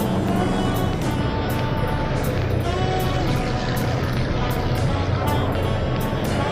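A 1948 Indianapolis 500 race car cruises along the front stretch, its engine a steady broadband roar heard from some distance, blended with crowd and track ambience and a faint hum of voices throughout.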